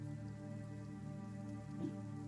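Rain falling in a marsh during a tabletop role-playing session, a steady even patter that stays constant and fairly soft throughout with no one speaking.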